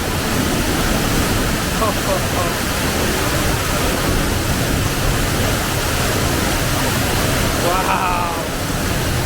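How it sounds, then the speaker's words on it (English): Waterfall inside Smoo Cave in Scotland, a loud, close, unbroken roar of rushing water that stays steady throughout. "Oh, this is a waterfall"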